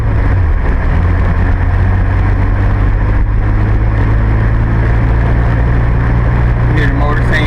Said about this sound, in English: You hear the motor saying shift me?